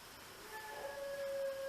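A pet dog named Yogi howls at a TV commercial, a single long, rising, sustained howl at moderate loudness in an indoor room, with no talking over it.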